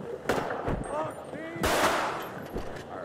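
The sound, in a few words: gunfire from guns in a GTA roleplay video game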